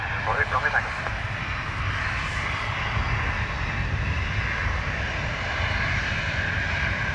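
Ryanair jet at Dublin Airport gives a steady low engine rumble and roar on a wet, windy day, with a voice talking over it near the start.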